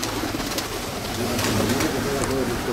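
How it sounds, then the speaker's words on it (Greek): A flock of pigeons at a loft coos in low, soft, repeated calls, steady and close, with faint flutters and background ambience. "Πήγαν τα περιστέρια, βγήκανε"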